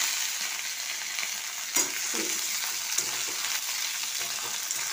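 Onion and green chilli powder fry in a pan with a steady, close crackling sizzle, broken by a few brief stirring scrapes and clinks.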